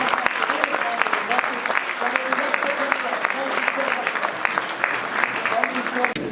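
An audience at a national legislative competition final in Abuja applauds, dense steady clapping throughout with a voice speaking over it near the microphone.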